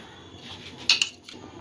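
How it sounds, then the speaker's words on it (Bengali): Spices mixed into paneer in a bowl before frying, a couple of quick metallic clinks of a spoon against the dish over a quiet kitchen background. "পনিরটাতে একটু মশলা মাখিয়ে নেব ভাজার আগে"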